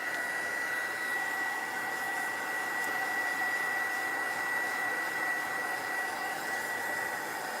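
A hand-held dryer blows steadily and close over graphite paste on a mixed-media spooky house craft piece, producing a constant loud whooshing hiss with a faint whine and no speech.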